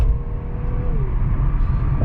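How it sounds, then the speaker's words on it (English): A 2019 Infiniti Q60 is pushed hard, its engine giving a loud, deep, steady rumble with a rising tone heard from close by inside the car, with no talk. "It makes absolutely sure that you will enjoy that driving experience of being able to punch it like this."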